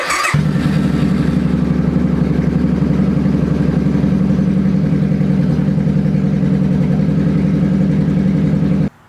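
A Suzuki Boulevard motorcycle engine fires up and settles into a steady, loud, close idle during an oil change, running continuously with an even rumbling pulse until it cuts off at the very end.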